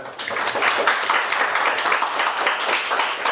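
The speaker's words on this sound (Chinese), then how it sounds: "给他们最热烈的掌声，谢谢他们" Teachers and students in an audience clap warmly for the student organisers of a national smart project management competition, a dense, steady burst of many hands applauding close by for a few seconds.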